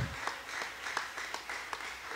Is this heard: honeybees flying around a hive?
no